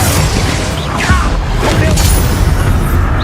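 A Confringo blasting spell explodes in Hogwarts Legacy, a loud rumbling boom with crackling debris that fills the whole moment without a break.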